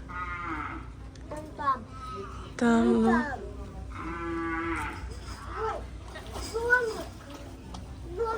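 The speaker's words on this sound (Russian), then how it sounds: "Где-то у нас здесь сегодня корова мычит." A cow moos several times, long drawn-out calls nearby, with people and someone talking quietly in between.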